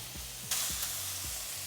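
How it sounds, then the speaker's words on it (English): Pork chops sizzling in olive oil on a smoking-hot Blackstone griddle, a steady bright hiss that swells louder halfway through, with faint low background hum and no talking. "Oh, that's already smoking hot. Listen to that sizzle."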